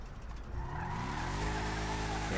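A Bravado Gauntlet Classic car engine in GTA Online revs up, its whine climbing steadily in pitch and growing louder, with no talking.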